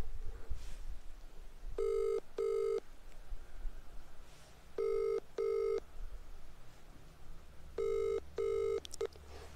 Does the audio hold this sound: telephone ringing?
yes